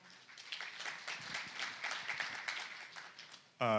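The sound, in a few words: audience applause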